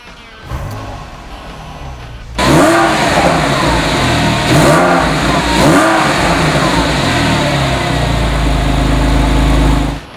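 A 2008 Porsche 911 Carrera S flat-six starts with a sharp catch, then revs repeatedly in loud swelling blips before settling into a steady, close, throaty idle with no talk.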